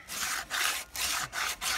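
Sandpaper rubbing over a modified Jolly Ball horse toy, heard as four steady, evenly spaced rasping strokes with short pauses between them. The sound is close and fairly loud, with no talk.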